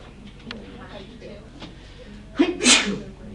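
A single sharp sneeze bursts out in a classroom during a statistics lecture, loud and close after a stretch of quiet room noise with faint voices in the background.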